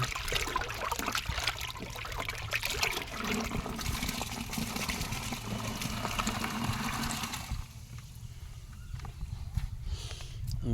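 Water is poured onto 10 kg of oilcake, a close, splashing gush that continues for several seconds before easing into a thinner, gurgling trickle.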